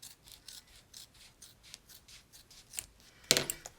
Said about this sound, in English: we'll trim that. And you trim the top here.